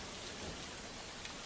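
Heavy monsoon downpour in Mumbai, a dense, continuous hiss of rain pouring onto surfaces, loud and steady throughout with no voices.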